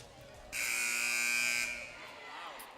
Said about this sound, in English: As the buzzer goes off, looks like we're about to start this ready game.